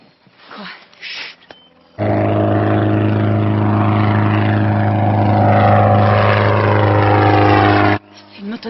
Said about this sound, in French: Non, attends, c'est pas une motoneige, c'est un moteur d'avion.